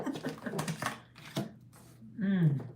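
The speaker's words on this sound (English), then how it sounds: "Yes, I'm super shuffling." Quick papery riffling of tarot cards being shuffled in bursts, close by, with a voice talking over and between the shuffles.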